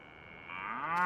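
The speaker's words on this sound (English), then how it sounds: "background sounds where they just will not stop mooing" Cattle mooing in the farm game Farming Simulator 19, a single drawn-out moo that swells louder as it goes, heard alone with no talk.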